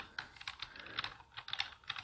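Typing on a computer keyboard while entering a C program in Dev C++, a quick run of light, irregular key clicks close to the microphone with no talking.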